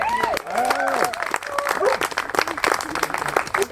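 Applause from a group gathered at an outdoor campsite for a bike story night camp-out, with clapping mixed with whoops and cheering voices, lively and fairly close.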